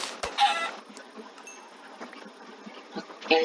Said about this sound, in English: Okay, Rooster attacks me.